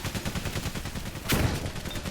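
A grenade bursts in the World War I video game Valiant Hearts: The Great War, a sudden sharp blast over a background of rapid, rhythmic gunfire-like pulses.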